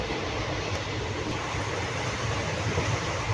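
The Kavi Guru Express passenger train (13027) rolls along between Rampurhat and Azimganj with a steady, unbroken rumble and hiss that holds at one level throughout, with no voices.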